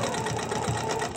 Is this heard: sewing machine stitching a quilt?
yes